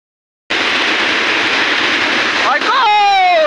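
Shivdav waterfall in the Konkan roars in as a loud, dense, continuous rush of falling water close by, starting abruptly; near the end a voice speaks over the steady torrent.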